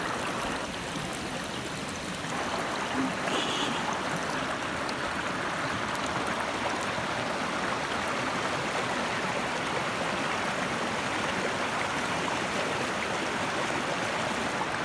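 A waterfall pours in a steady, full broadband roar that stays loud and unbroken throughout, with a brief high chirp early on.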